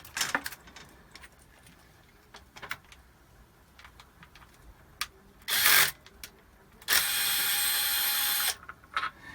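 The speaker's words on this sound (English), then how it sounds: "You can use a speed gun to remove the bolts quickly." A speed gun spins out bolts on the motor of a Hayward Super Pump II in two loud whirring bursts, one short and one longer. Scattered clinks and tool handling fill the quieter gaps around them.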